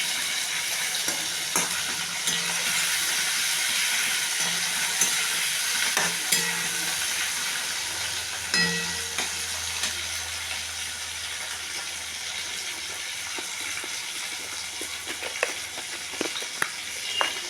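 Duck egg curry with tomato and ginger fries in a pan as it is stirred, an unbroken close sizzle overlaid with repeated spatula scrapes and light knocks throughout.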